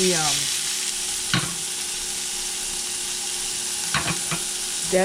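Carrots and onions frying in a pan for picadillo, a steady close sizzle with a few sharp clinks and scrapes of a utensil stirring, no voices heard.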